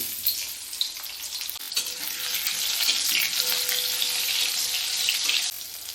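A dried red chilli, two green chillies and mustard seeds hitting hot oil in a wok: loud, close, continuous crackling sizzle that surges in the middle and cuts off abruptly just before the end, with no talking.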